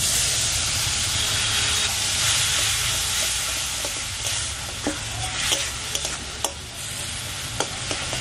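Fish curry bubbling and hissing in the pan after Kashmiri red chili and water go in, a steady loud sizzle with scattered sharp ladle clinks growing more frequent toward the end.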